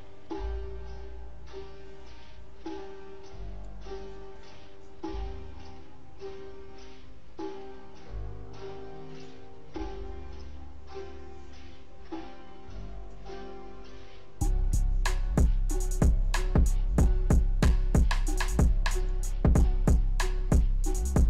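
A simple trap beat made in FL Studio 20 starts with a soft, mellow melodic intro loop, then the beat drops into hard, booming kicks and crisp, rapid hi-hat hits that sound louder and fuller until the end.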